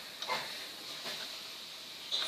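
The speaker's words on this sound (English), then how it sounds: "That nice sizzle on there." Chicken breast spread out in a pan on a stovetop burner sizzles with a faint, steady hiss, quiet and unbroken.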